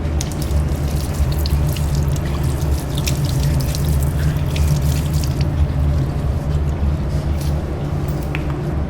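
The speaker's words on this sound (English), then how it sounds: "and rinse with water." Tap water running into a lab sink while glassware is rinsed, a steady broadband rush with faint clinks, continuous and close throughout.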